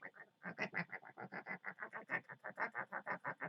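A child imitates a duck, quacking in a steady run of about twenty short, evenly spaced bursts over a few seconds, close to the microphone with no other talk.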